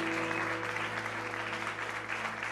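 Church congregation applauding in a sanctuary, a steady wash of clapping held for a couple of seconds over a sustained low organ-like drone, fairly even and moderately loud.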